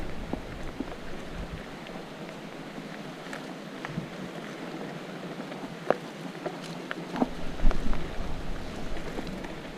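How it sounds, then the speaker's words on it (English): Steady broadband wind rushing through trees on a North Carolina mountain bike trail, with a few faint clicks and a slight gust swelling near the end. "Listen to that wind in the trees."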